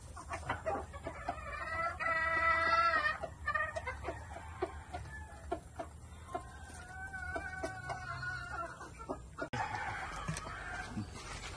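Gamecock chickens on a Filipino farm cluck and crow, with a long drawn-out cock-a-doodle-doo near the start followed by repeated clucks and short calls, fairly close, against a low background hum.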